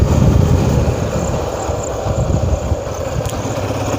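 Motorcycle carrying three riders on the way to the Giraudpuri Dham fair, its engine droning steadily with heavy wind rumble, loud and close throughout without talk.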